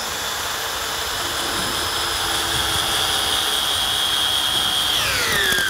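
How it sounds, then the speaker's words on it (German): A cordless drill-driver backs a screw out of roof timber in a carpentry workshop, making a loud, steady motor whine that runs throughout, then winds down sharply in pitch near the end. "gerade mit dem Akkuschrauber die Schraube rauszudrehen"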